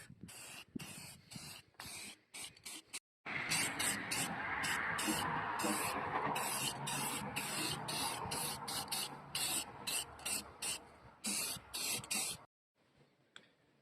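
Short bursts of aerosol spray paint coat a bicycle frame built from scrap exhaust pipe in gloss black outdoors on a windy day, hissing close and loud in repeated pulses, then a long continuous stream, then more brief sprays.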